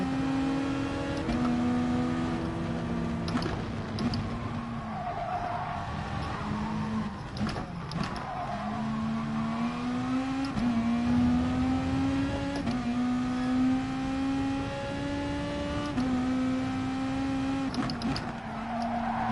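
Racing car engines in the video game Gran Turismo Sport during an FIA practice session, a continuous revving whine rising and falling through gear changes, steady and moderately loud throughout.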